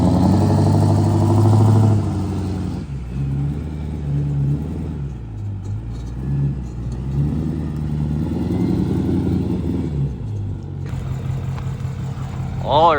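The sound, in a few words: rebuilt 6.4L engine running during break-in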